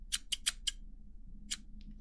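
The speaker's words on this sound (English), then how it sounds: "So we're gonna do some scissors now." Scissors snipping close to the microphone in a quiet ASMR setting, four quick crisp cuts in a row, a pause, then one more snip and a faint trailing click.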